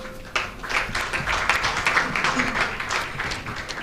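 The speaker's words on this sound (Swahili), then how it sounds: "Naomba tuwapigie makofi wakiwa wanaenda kuchukua viti vyao" A crowd at the Business SDG Awards 2023 ceremony applauds with a dense, steady patter of clapping as award winners return to their seats, while a voice talks over it.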